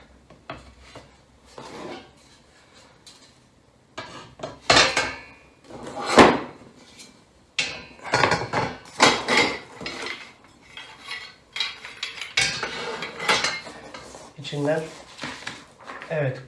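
Metal legs of a flat-pack desk with a bookshelf clatter and clank as they are handled during unboxing, giving irregular bursts of metallic knocks with quieter pauses between and a voice talking alongside.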